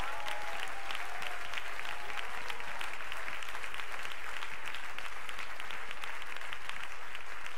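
A church congregation claps together in steady, sustained applause, a dense wash of hand claps heard at moderate distance throughout.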